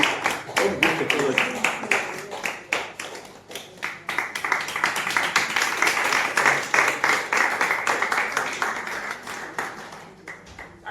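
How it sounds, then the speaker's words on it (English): Audience applause at a teachers' event on handwriting instruction: scattered, uneven clapping from a modest crowd that swells midway and thins toward the end, with some talk mixed in. "let's give a round of applause"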